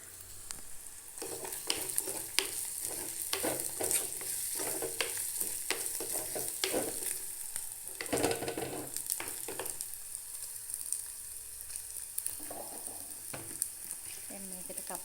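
Curry with goraka powder stirred in a hot pan, steady sizzling and frying with repeated scraping strokes of the spoon, close and fairly soft throughout.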